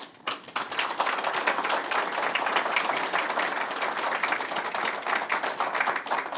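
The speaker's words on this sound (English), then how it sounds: "I think we should have a big round of applause for those served veterans in this community" A community gathering honouring local veterans breaks into a big, sustained round of applause, dense crowd clapping that swells quickly and holds steady at full strength throughout with no talking over it.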